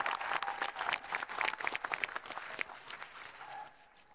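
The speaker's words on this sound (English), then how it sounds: "Let's give them, graduates, a round of applause." Round of applause for graduates at the Seattle University 2023 commencement, a distant, reverberant crowd clapping that swells and then gradually tapers off.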